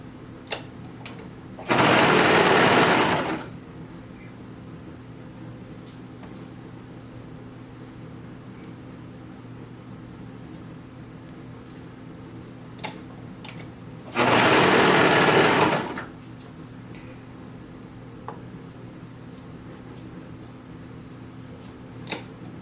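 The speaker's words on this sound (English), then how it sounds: "I'm going to fold it in half and then have them right sides together, and I'm just going to sew this edge really quick." A home sewing machine runs two short, loud bursts of stitching on folded fabric cuffs for baby bummies, each about a second and a half long, separated by a long quiet stretch with faint handling clicks.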